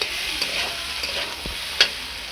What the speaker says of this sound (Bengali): আর কিছুক্ষণ কষিয়ে আমরা এতে পোস্ত বাটা দিয়ে দেবো।